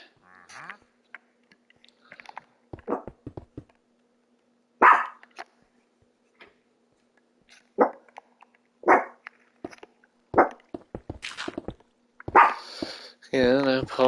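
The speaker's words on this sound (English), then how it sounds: "I apologize for my dog barking" A pet dog named Lulu barks in a series of sharp, near barks spread across the stretch, while a person talks intermittently between them in an apartment.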